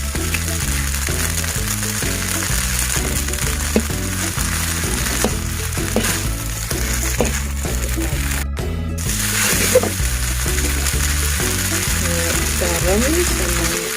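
Eggs for bihun noodles stir-fry in a hot pan with a constant loud sizzle, while a spatula scrapes and clacks repeatedly against the pan and music plays underneath.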